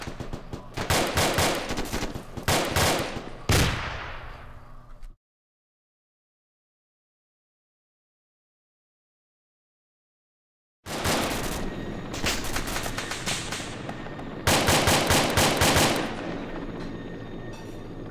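Machine gun fire in a military video game, dense rapid bursts of loud gunfire that stop abruptly for several seconds of silence, then resume in long sustained volleys.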